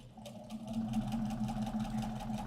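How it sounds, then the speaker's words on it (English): A sewing machine that is currently unable to backstitch runs steadily with a continuous mechanical hum and a rapid stitching rhythm, close and moderately loud throughout. "we're sewing on a machine that does not backstitch currently"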